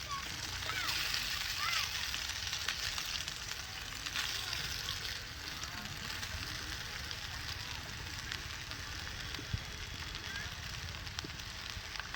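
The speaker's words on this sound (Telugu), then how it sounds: "బాగా వేపేసుకుని కొంచెం మగ్గిన తర్వాత ఉంచుకోవాలి." Vegetables fry in hot oil in a pan for vegetable noodles, giving a steady, even sizzle and crackle that runs throughout at low volume.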